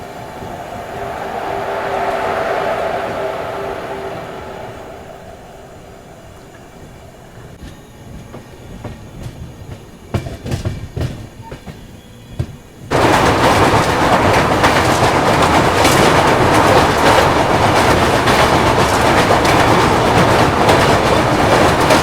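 A Moradabad Lalkor passenger train with ICF Jan Shatabdi coaches at a railway station platform, a distant rumble and some clanks at first, then a loud, steady roar of the train rolling close past.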